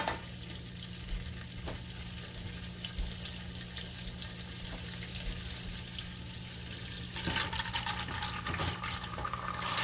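Pumpkin seeds simmer in melted butter in a pan over medium-low heat, giving a steady, soft sizzle and bubbling that grows a little busier near the end, with no voices.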